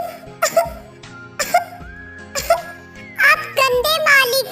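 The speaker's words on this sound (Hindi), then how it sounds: "जोर जोर से खांसने लगती है" Several sharp coughing bursts in quick succession from a cartoon girl after drinking sherbet spiked with chili, loud and close, with a background music track and a voice speaking near the end.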